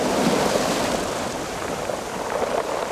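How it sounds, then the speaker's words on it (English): Sea waves wash against the shore at King George Island, Antarctica, making a loud, close, continuous rushing surf that swells and eases slightly. "lulled by the sound of the sea"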